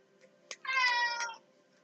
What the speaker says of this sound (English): You can probably hear my cat in the background here.